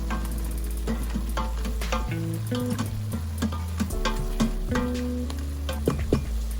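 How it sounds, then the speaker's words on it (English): Vegetables and soya chunks frying with garam masala and coriander powder for a vegetable biryani, sizzling close up while a spoon stirs and scrapes the pan in uneven strokes, no talking. "Let's mix everything well."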